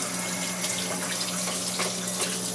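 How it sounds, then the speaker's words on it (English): Hands rinsed under a running kitchen tap, steady close splashing water with a constant hiss and no voices. "Give my hands a quick rinse."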